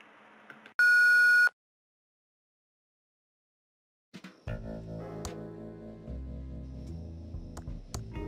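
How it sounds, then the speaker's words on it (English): An answering machine beep in the Thimbleweed Park video game, a short, loud electronic tone followed by silence, then a low, murmuring background with faint clicks. "Please leave a message at the beep."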